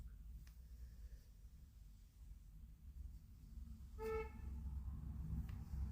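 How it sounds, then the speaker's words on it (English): A pet rabbit indoors gives a single short, nasal, horn-like honk that stands out briefly over a low, steady background rumble. "Bunnies aren't meant to make that noise. Which one of you is honking like that?"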